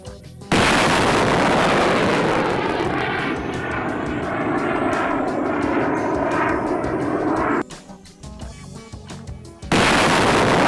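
Pechora-2M air defence missile launch during firing tests: a loud, sustained rocket roar that drops away abruptly, then a quieter stretch before a second roaring blast starts, consistent with a double launch.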